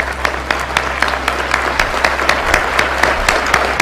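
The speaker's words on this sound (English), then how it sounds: "And another round of applause, please, for like those benefactors." An audience applauds benefactors at a grant presentation: loud, continuous clapping with distinct individual claps beating through the crowd noise, over a steady low hum.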